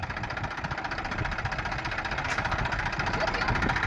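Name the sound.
tractor engine running in cotton field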